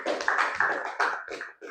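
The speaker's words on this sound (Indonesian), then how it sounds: "Tepuk tangan dulu untuk kelompok 1." Classroom applause for a student group, a burst of clapping from many hands with several swells and short dips, fairly close and dense, with no voices over it.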